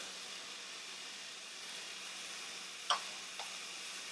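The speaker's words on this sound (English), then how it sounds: "So we are going to saute" Frozen green beans and cooked potatoes sauté in a pan, giving a faint, steady sizzle throughout with a couple of brief utensil clinks near the end; no one speaks.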